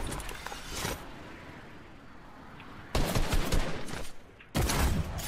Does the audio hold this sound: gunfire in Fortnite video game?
yes